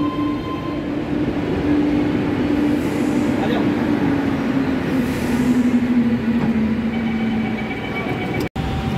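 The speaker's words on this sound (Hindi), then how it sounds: "ये आ गई मेट्रो, आ गई" A metro train rolls into a station in Lucknow, a loud steady rumble with a whining tone that slowly drops in pitch as it slows.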